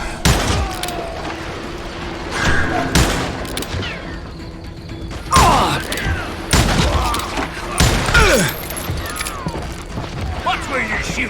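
Repeated gunshots ring out in the Wild West shooter Call of Juarez: Gunslinger, loud irregular bursts and single blasts scattered across the scene, with game voices and shouting mixed underneath.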